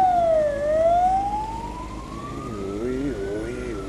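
An emergency vehicle siren wails at moderate distance, sweeping down and then rising in a long glide, with a second siren tone joining near the end, as an ambulance and fire engine approach a crash scene in New Zealand.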